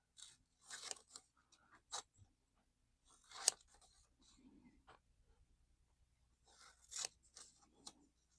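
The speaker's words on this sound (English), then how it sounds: "I'm cutting all the edges off" Scissors trim the edges off a postcard-sized collaged paper bookmark: a run of crisp snipping and crunching cuts at an irregular pace, close and quiet, with pauses between bursts.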